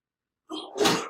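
One sharp sneeze breaks a short silence, close and fairly loud, with a quick inhale before the burst.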